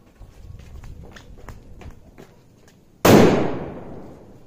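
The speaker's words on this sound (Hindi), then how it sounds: "नेक्स्ट फायर क्रैकर टेस्ट हम करेंगे सुक्र किंग ऑफ कॉन्ग फॉइल्स" Light footsteps and small shuffles come first, then a King of Kong foil sutli firecracker goes off with a single sharp, loud bang that decays into a fading rumble.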